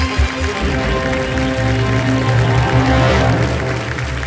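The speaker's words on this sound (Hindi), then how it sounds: "तालियां बजती रहें इनों के लिए।" Studio audience at a television quiz show applauding to welcome contestants, a loud, dense and steady wash of clapping with music underneath.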